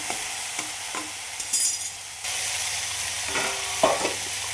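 Okra stir-fry stirred with a spoon in a pan, a steady sizzle underneath with a few close scrapes and taps of the spoon, no talking.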